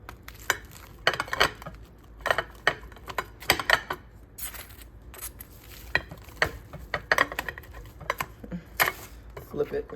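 A knife slicing quesadillas on a cutting board, irregular sharp knocks and scraping cuts in bursts, with a person talking between them.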